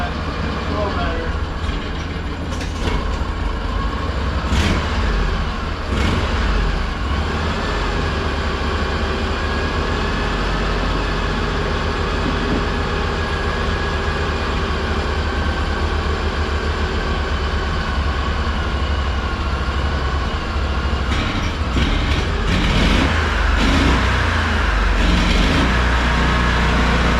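An Argo 8x8 amphibious vehicle engine idles steadily while warming up, running with its air cleaner off, a loud continuous rumble with a few clanks and knocks over the top.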